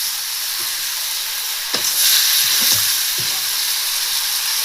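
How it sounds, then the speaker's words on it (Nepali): Paneer pieces frying and sizzling in hot oil in a pan, a steady close hiss with a few louder crackles and turning clatters toward the middle. "फेरि केही समय हामी तेलमा पकाउँछौँ।"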